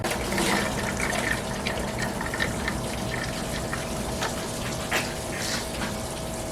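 Coolant gushes out of the lower radiator hose of a Chevrolet S10 Blazer and splashes into a catch container. The flow stays steady and close, a continuous watery rush with small spatters and no talking.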